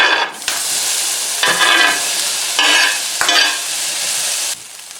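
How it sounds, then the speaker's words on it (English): Onion and green pepper hit hot olive oil in a pan, a loud close sizzle that surges in bursts as the vegetables are stirred, then drops back to a steady fry. "Add your olive oil. We're going to add the onion and green pepper."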